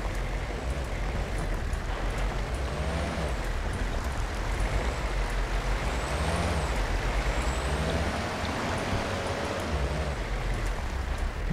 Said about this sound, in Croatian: Džip je to, može da projuri kud hoćeš.